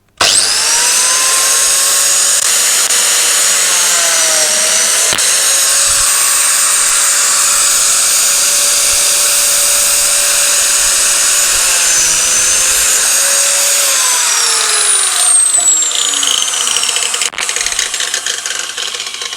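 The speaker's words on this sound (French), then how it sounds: "moi je démarre la lamelleuse dans le vide, à cause de l'interrupteur un peu particulier sur ce modèle" A biscuit joiner whirs up to speed with its loud, steady high motor whine, then plunges into wood panel for a slot cut, pitch dipping under load before spinning down near the end.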